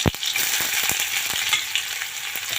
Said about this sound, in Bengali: তেলে পেঁয়াজটা দিয়ে দিলাম